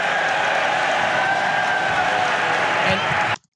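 A biased audience at a political debate erupts in sustained, loud crowd noise that drowns the room, then cuts off abruptly.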